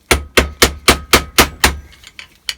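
Metal hammer blows strike repeatedly while fitting rear wheel bearings on a classic Mini Clubman, seven sharp, evenly spaced bangs close up, then softer lighter taps at the end.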